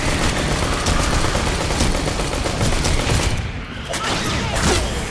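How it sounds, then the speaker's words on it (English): Rapid automatic pistol gunfire in the Aliens: Colonial Marines video game, dense loud bursts of shots rattling almost continuously with a brief dip before resuming. "I have an automatic pistol now."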